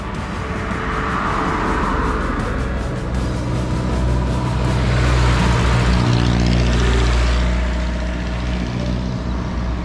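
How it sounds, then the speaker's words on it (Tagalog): A vehicle passes close by on a rural road, a loud engine rumble and tire roar swelling toward the middle and then easing away, heard alone without talk. "Sandali ha, may sasakyan."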